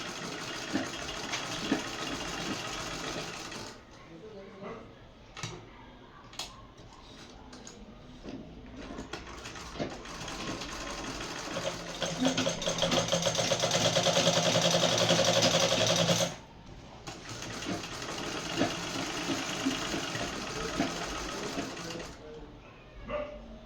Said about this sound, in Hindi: सबसे पहले तो रफ कपड़े पे सिलाई करके देखेंगे कि मशीन सही चल रही है